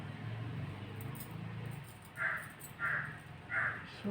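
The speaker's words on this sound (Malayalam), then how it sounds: "നമ്മുടെ കാക്കച്ച് പേടിച്ച് ആ കാ കാ ഭയങ്കര വേഗം കേട്ടോ" A crow caws three times in quick succession, fairly faint and set against quiet background hum, with no talking.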